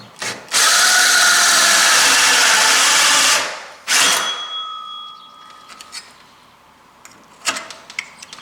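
A power drill bores into a metal door while fitting a keypad deadbolt, a loud continuous whine lasting about three seconds, then a short second burst, followed by faint clicks and handling noises.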